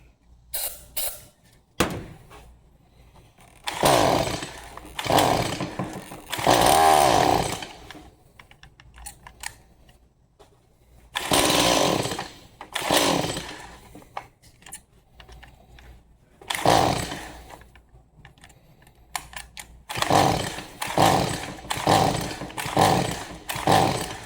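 A Stihl MS 180 C chainsaw on half choke is pulled and fires in repeated loud bursts, revving briefly then dying between attempts, close to the microphone with no talking over it.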